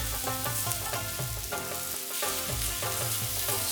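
Chicken reshmi kebab sizzling in a pan, a loud, close, continuous sizzle with crackling bursts and soft scraping sounds from turning and brushing the pieces, no talking.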